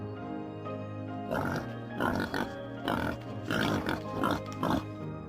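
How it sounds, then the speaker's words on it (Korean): A wild boar on the African savanna in the dry season grunts and snorts in a run of close, rough, rhythmic bursts, loud and up front against a faint steady background. "야생 멧돼지는 먹이 사슬에서 중요한 부분을 차지합니다."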